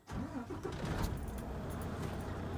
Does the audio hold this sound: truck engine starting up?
yes